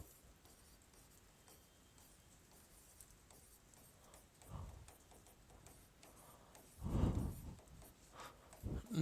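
Marker or chalk strokes scratch across a board in a quiet room, faint and steady, rising into a few louder rubbing strokes toward the end.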